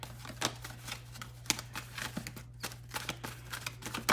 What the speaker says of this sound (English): I always shuffle again online so that you know that it's real